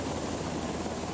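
A U.S. Coast Guard rescue helicopter flies over flooded ground, its rotor a steady, dense broadband drone that stays even and continuous without a break.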